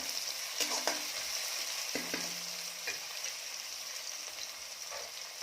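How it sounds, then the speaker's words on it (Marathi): Tomatoes added to browned onions frying in a pan for Kolhapuri mutton, a soft, steady sizzle with a few spoon knocks and stirs. "आता यामध्ये मी टाकत आहे टोमॅटो टोमॅटो छान लालसर करून घेऊया"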